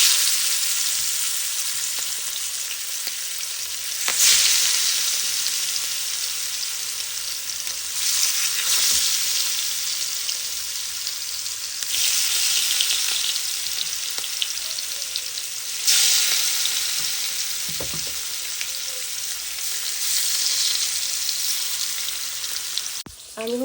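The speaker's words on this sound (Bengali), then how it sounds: "আর এখানে হচ্ছে তাওয়া গরম করে নিয়েছি, এখন মাছ ভেজে নিব।" Hilsa fish seasoned with turmeric and salt frying on a hot tawa, a loud, continuous crackling sizzle that swells and eases in slow waves, with occasional clinks of a utensil.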